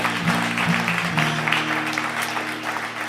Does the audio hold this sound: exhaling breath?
no